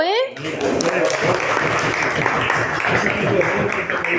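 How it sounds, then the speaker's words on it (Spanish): Audience applause during a magician's performance, heard as a thick, steady wash of clapping close by, with voices mixed in and talking over it. "Darle un fuerte aplauso"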